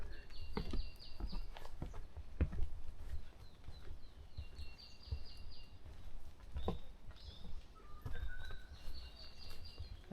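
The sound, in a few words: birds singing in the forest on Bongseosan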